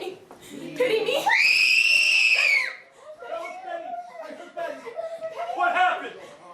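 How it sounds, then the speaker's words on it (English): A woman screams loud and high-pitched for a couple of seconds in a recorded stage production of The Crucible, surrounded by overlapping agitated voices and brief laughter-like sounds. "She heard you singing and suddenly she's up and screaming"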